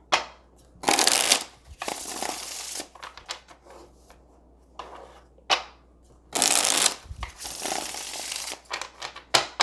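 Tarot cards being shuffled in several separate bursts of crisp riffling and rustling, close and fairly loud, with quiet pauses between rounds and no talking.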